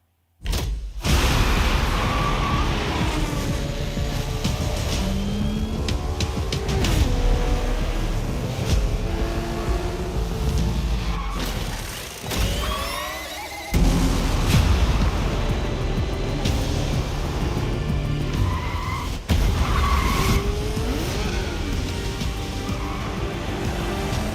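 Race cars in the Forza racing game intro roar and skid through a busy mix of engine noise, squeals and whooshes, loud and continuous, with a short lull near the middle.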